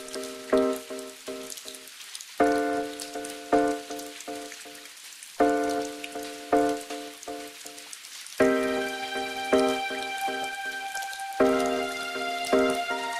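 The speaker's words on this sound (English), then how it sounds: "It's not a storm, it's rain!" Soft steady rain patters under gentle, slow piano-like notes that ring out in repeating phrases, quiet and calm throughout.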